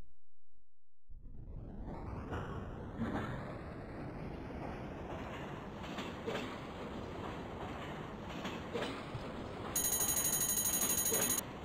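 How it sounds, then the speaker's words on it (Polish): Inside the cab of a tram in Roblox, an engine tone rises steadily after a brief start, and near the end a bright, rapid ringing cabin bell sounds loudly over the hum. "Dzwonek znany chociażby z tramwajów,"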